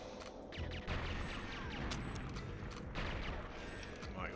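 Rapid, continuous gunfire from the Nintendo 64 shooter GoldenEye 007 crackles in dense, overlapping bursts for several seconds, loud and close, with small mechanical clicks mixed in.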